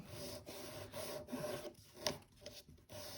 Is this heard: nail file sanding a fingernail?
yes